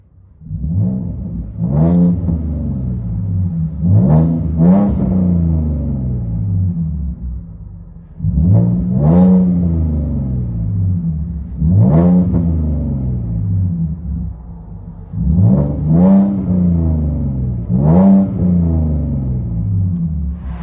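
A 2017 Ford Mustang 3.7L V6 with Flowmaster Outlaw exhaust, resonator and muffler deleted, roars from inside the cabin in three groups of loud, deep revving bursts over a steady idle rumble, with no talking.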